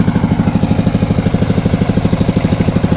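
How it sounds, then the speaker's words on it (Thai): An engine-driven pump sucks dirty water out of a newly drilled 40-metre well for a garden water system, chugging loudly and steadily with a fast, even pulsing throb and no voices. "หลังจากที่ เจาะสำเร็จแล้วเนาะขั้นตอนสุดท้ายคือ การดูดน้ำออก"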